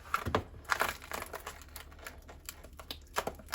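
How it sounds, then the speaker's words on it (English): Crinkly plastic rustling with hard little clicks and knocks, like ice shifting in a bag, handled up close in short irregular bursts. "I like to keep my ice in a plastic bag."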